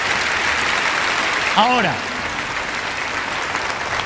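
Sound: applause

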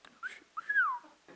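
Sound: person imitating a wolf whistle

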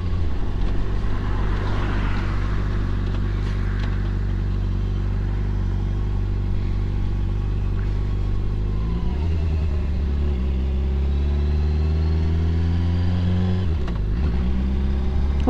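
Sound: cars passing on Saddle Road, Big Island

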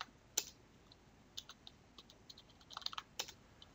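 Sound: typing a password on a computer keyboard

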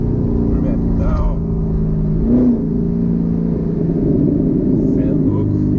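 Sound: Chevrolet Corvette engine revving

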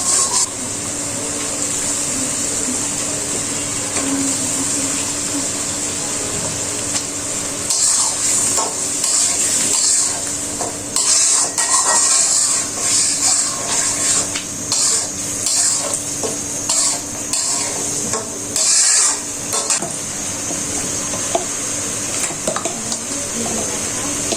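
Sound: fish frying in spice paste in a pan

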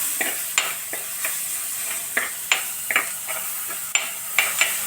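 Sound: stirring ginger-garlic-green chilli paste into frying onions

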